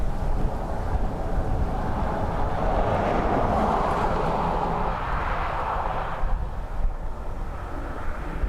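A Ryanair aircraft arriving from Tarbes at a windy Dublin Airport produces a broad, steady engine roar with gusty wind noise, its pitch swelling and easing as it passes at a distance.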